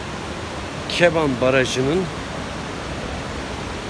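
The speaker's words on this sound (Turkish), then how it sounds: "Çırçır Şelalesi'nin oradayız." A steady broadband rush of water from Çırçır Waterfall near Keban Dam in Elazığ runs throughout, with someone speaking briefly over it.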